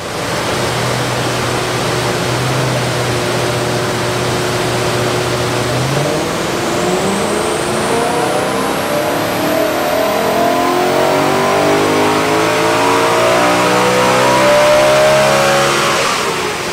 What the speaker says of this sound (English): So we've just dynoed the car.